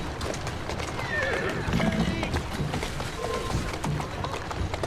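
Horse in the Assassin's Creed Syndicate video game: a whinny over steady hoof clatter and busy game ambience, with a voice talking over it.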